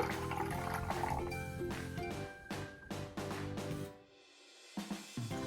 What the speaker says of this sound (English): Now I pour it in.